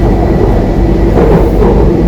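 A Kochi Metro train running, heard from inside the car as a loud, steady rumble with rhythmic wheel clatter and rushing air throughout, with no speech over it.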